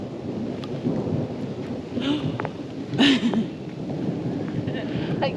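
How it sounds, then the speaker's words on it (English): Steady rain hisses throughout at a campsite in northern Arizona while low thunder rumbles and swells, loudest near the middle, with a voice talking faintly underneath. "The thunder, the birds, the rain."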